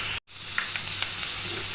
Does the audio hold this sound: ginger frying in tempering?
yes